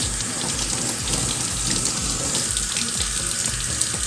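Lukewarm tap water runs steadily into a sink while a prosthetic liner is washed, a continuous close splashing gush with no break and no talking.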